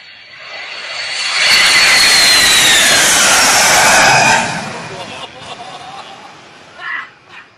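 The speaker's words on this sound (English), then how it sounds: "This pilot flies really low performing stunt." A small plane flying low overhead during a stunt, engine roar swelling loudly as it passes close, holding for a few seconds, then fading away with fainter noises after.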